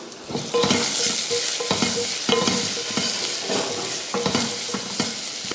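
Spices with turmeric powder sizzle in a hot pan while being stirred, with repeated scraping strokes at an uneven rhythm. Close and fairly loud, no talking.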